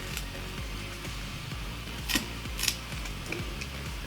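Scissors snip through cardboard in a steady run of crunchy cuts, close up and fairly quiet, with a couple of sharper snaps near the end and no talking.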